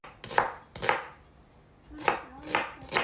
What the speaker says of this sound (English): I'm just going to chop down my onion.